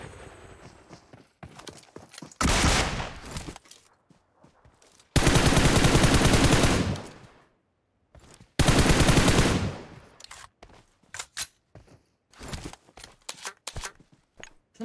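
Three loud bursts of automatic gunfire in a PUBG Mobile match, separated by quieter stretches of clicks, steps and light game noises, with no talking.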